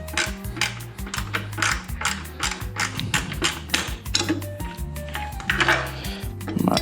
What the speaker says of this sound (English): I've got a socket set with the 3/16 on it